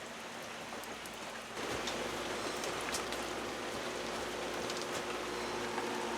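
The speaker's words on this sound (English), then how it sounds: "You playing in the rain, Bubby?" Rain falls outdoors as a steady broadband patter and hiss that grows louder partway through, continuous and with no voices.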